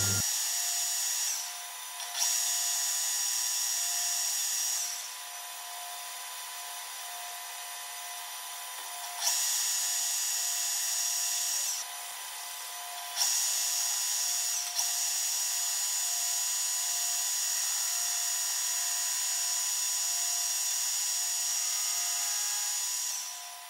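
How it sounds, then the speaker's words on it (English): A lathe skims and faces a steel PTO adaptor for a Cummins 6BT flywheel, giving a continuous high-pitched cutting whine that steps up and down as the cut changes. "So now I'll skim that off, and then face that side off."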